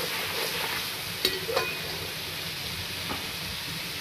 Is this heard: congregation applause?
no